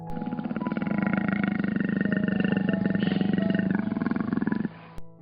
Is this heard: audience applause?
no